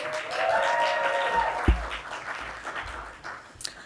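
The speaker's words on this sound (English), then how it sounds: "Let's also get a round of applause for our setup crew who made this all happen" Audience applause at an organization's State of the LSC 2025 event, honoring the setup crew; moderate clapping from a room crowd that starts strong and tapers off, with faint voices mixed in.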